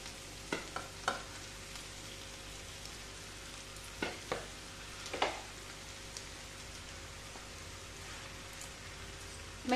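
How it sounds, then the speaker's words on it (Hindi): Potatoes tipped into a pan of golden fried onions and stirred, giving a steady low sizzle with a few scraping clatters of the spoon early on and again midway, close and moderately quiet with no talk. "अब इसमें फटाफट से हम आलू को ऐड करेंगे।"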